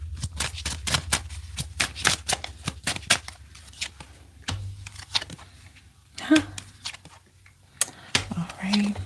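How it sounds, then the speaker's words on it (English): A deck of tarot cards is shuffled and cut in a quiet room, giving rapid riffling clicks and soft flutters in bursts with brief pauses, then a few sharper slaps as the deck is split, with occasional low speech nearby. "let me cut the deck again."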